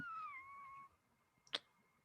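A person imitates a cat's meow with their mouth, producing a clear, drawn-out falling mew followed by a short sharp click, quiet and alone.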